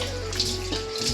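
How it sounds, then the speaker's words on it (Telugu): Water poured into a pot of mutton pulao made with coconut milk, a steady close rushing pour that lasts throughout the short moment with no talk. "నేనైతే వాటర్ వేసుకుంటున్నానండి"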